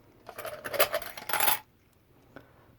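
Old original master keys, numbered for a master key system, clink and jingle together in a close, bright metallic burst for about a second and a half, then a single faint tap follows.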